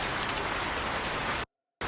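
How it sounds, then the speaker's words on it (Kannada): Rain falls steadily outdoors with a dense, even hiss of drops on surfaces, cut by a brief gap of silence near the end before resuming. "ಮಳೆ ಬತ್ತಾಯ್ತು, ಸುಮ್ಮನೆ ನೆಂದ್ಬಿಡ್ತೀಯ"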